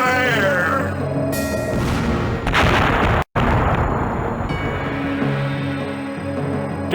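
Cannon fire from attacking ships in the pirate video game Redjack, heavy booming blasts and rumbling explosions over a musical score, loud and close, with a brief dropout midway.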